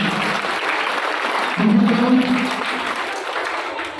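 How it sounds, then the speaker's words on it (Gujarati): Students in a classroom at a Teacher's Day celebration burst into loud applause, a dense wash of many hands clapping at once that swells midway, then gradually eases off. "આના માટે એકવાર જોરદાર તાળીઓ પાડજો."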